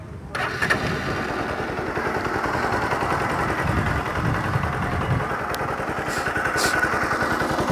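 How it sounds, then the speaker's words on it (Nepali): A Bajaj Pulsar NS160 motorcycle engine starts up close and settles into a steady, loud, even idle that runs without a break. "एकचोटि अब स्टार्ट गरेर है त."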